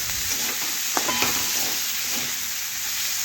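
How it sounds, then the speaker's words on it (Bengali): Potatoes frying in a karahi with a steady soft sizzle, and a spoon scraping and stirring them in a couple of brief clinks near the one-second mark. No one speaks. "এখন আমি একটু নাড়াচাড়া করে নিচ্ছি।"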